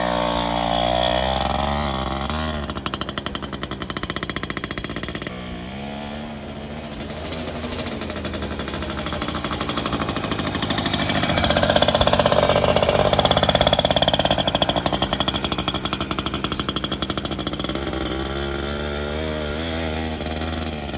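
Motorbike engine running in second gear, a loud continuous buzzing drone that rises in pitch and intensity midway, then settles back, heard close up.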